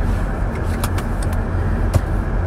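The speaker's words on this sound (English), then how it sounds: "I'm in the car." Steady engine and road rumble inside a moving car, a constant low drone with a few faint clicks and creaks, and no talking.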